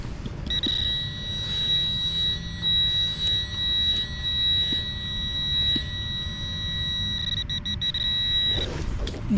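A metal detector sweeping the ground in an amphitheater park gives a steady, continuous high-pitched tone that holds almost unbroken for several seconds over low rumbling ground and handling noise, then cuts off near the end.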